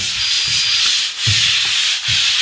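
Wall being scrubbed by hand before the final paint coat, a loud close rasping sanding sound in repeated back-and-forth strokes with brief pauses, alone without talk.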